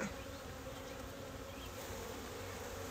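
Honey bees buzz steadily throughout a February hive inspection, a dense continuous drone close by with no gaps and no voices.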